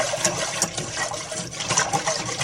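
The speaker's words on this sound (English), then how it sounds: "Okay, so we're almost to a roiling boil." Dandelion jelly liquid bubbles toward a rolling boil in a pot, a steady close churning and gurgling with no voices.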